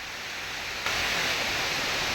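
Water rushing over Santhosh Falls makes a steady, dense roar with no voices, swelling noticeably louder partway through and then holding constant.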